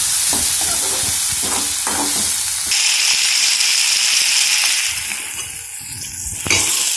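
Coconut and spices for a masala paste fry in a pan with a loud, crackling sizzle and rattling stirs; the sizzle shifts to a brighter hiss partway through and ends with a sharp clatter.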